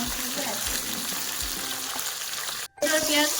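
Onions and tomatoes fry in a pan for spicy dahi chicken, a steady close sizzle with stirring scrapes, cutting out briefly near the end and then returning.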